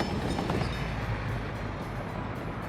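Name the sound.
train running, video game Workers and Resources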